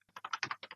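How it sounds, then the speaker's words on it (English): A computer keyboard is typed on in a short burst of about eight quick, faint key clicks, close by and with no talk. "Noises with my keyboard still."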